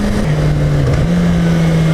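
A 2015 Kawasaki Ninja ZX-10R sport bike engine braking on the road, a loud steady engine drone with a slight pitch drop as it decelerates, heard close and without voices.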